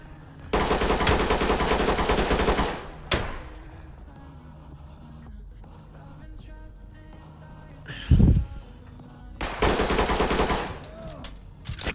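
Rapid gunfire bursts from the Ready or Not video game, loud automatic volleys near and clear, separated by quieter stretches with a single heavy bang, under occasional talk.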